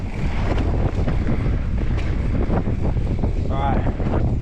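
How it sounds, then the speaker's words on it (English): Strong wind blowing at an outdoor enduro race track, a constant loud rumbling gust buffeting the microphone throughout, with a voice speaking briefly under it. "Now it's getting real windy out here."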